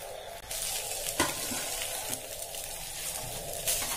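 Chicken kothu parotta mixture sizzling loudly on a hot dosa griddle with a little coconut oil, a continuous dense hiss with occasional scraping stirs, close and with no voices.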